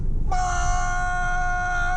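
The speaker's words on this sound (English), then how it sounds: "Then I gave it one last honk." A car horn gives one long, steady honk that starts abruptly and holds at full loudness over low road rumble.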